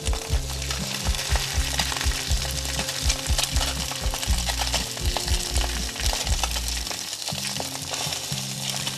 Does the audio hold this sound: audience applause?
no